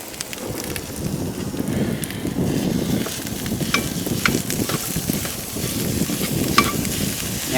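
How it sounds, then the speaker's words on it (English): Meat sizzling and frying in a pan for a burrito, a constant close crackle with scraping and stirring sounds, no talk. "Let's go ahead and put our meat in there now, and we'll start getting that cook up too."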